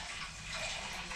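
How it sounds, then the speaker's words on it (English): Hot water tap running into a mixing bowl left to soak in a home kitchen, a steady close rush of water lasting throughout. "this can soak actually on the hot water tap"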